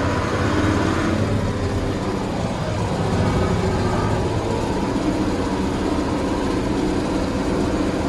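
A John Deere 7020 tractor engine runs in cold 45-degree weather, a steady, loud low-frequency rumble with continuous idling throb throughout, no voices over it.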